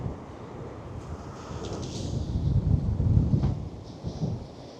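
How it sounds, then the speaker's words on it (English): Strong coastal wind gusting up to 40 mph at low tide near Penmon Lighthouse, heavy rumbling buffets swelling and easing against the microphone, with a louder surge in the middle and no voices. "No drones today, far too windy. Gusting up to 40 mile an hour."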